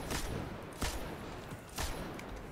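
Three spaced single gunshots in the game Destiny during a Nightfall strike, sharp and moderately loud over continuous background game noise.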